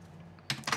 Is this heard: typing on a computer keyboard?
yes